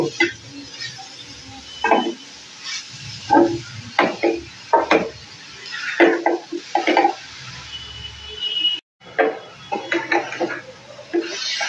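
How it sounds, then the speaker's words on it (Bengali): Coconut and jaggery filling for dudh puli pitha being stirred in a pan with a wooden spoon: irregular scraping and knocking strokes, close and moderately loud, with brief pauses between bursts. "এখন আমি একটু ভালো করে নেড়ে চেড়ে দেব।"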